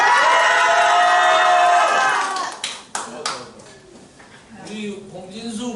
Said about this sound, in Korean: 함성 소리가 적으니까 다시 한번 3초간 함성!